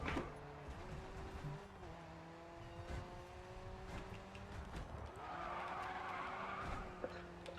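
Car drifting in a race with tires skidding in long, steady squeals over engine drone, fairly distant and continuous throughout, swelling louder near the end.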